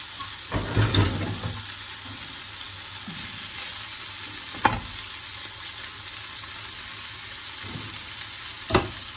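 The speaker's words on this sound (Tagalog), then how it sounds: "At haluin na natin siya." Hokkien noodles stirred as they fry in a pan, a steady low sizzle running throughout with a few sharp scrapes and clacks of the utensil against the pan, no voices present.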